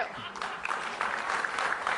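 Enthusiastic applause from a crowd, dense clapping that swells and holds steady across a couple of seconds, fairly close and continuous.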